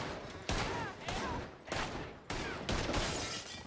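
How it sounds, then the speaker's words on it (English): Rapid bursts of video game gunfire in a hostage breach scene, loud and close, several heavy volleys cutting in and out with brief gaps, crackling and shattering over a constant noisy bed. "They shot the hostage down."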